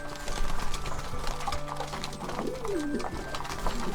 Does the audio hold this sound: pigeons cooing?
yes